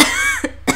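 A single close cough bursts out, followed by a second short cough a moment later, with a voice-like tonal sound at the start, amid a video game session.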